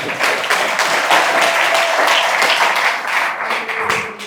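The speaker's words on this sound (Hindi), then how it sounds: "इनके तो ताली बजाइए।" Steady applause from an engineering college audience, dense and continuous hand clapping throughout, fairly loud with a faint voice underneath.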